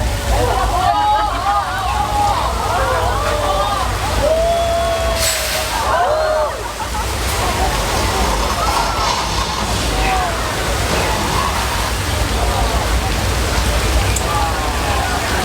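A simulated flash flood on the Universal Studios backlot tour surges with heavy rushing, splashing water and pouring downpour, a continuous loud wash while a guide talks over it.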